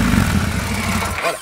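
An Indian Scout motorcycle engine revs loudly and close by, a deep steady rumble that holds through the burst and swells briefly near the end.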